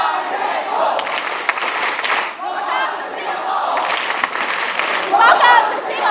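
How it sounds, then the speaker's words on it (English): A large crowd in Singapore cheers and chants for Pope Francis during his 2024 visit to St Theresa's Home, a loud rhythmic chant with shouts and clapping. "Shall we do one more cheer with the Papa Francesco?"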